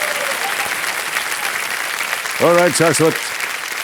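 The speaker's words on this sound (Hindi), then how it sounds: "एक बार फिर जोरदार तालियां बज जाए." A studio audience at the Kaun Banega Crorepati quiz show keeps up steady, dense applause throughout, and a voice cuts in briefly over the clapping near the end.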